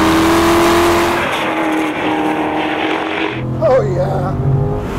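A 500-horsepower all-wheel-drive car runs fast on a racetrack, its engine droning loud and steady with a pitch that shifts as it drives, a brief squeal near the end.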